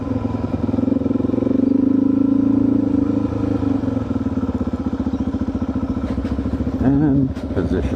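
A motorcycle engine hums steadily and close by as the rider brakes and shifts down through the gears, with the pitch wavering near the end of the clip.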